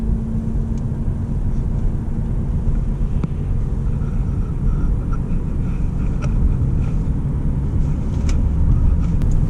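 Steady low road and engine rumble inside a 2010 Mercedes E350 with an AMG sports package and stiff suspension, continuous and fairly loud, with no talking.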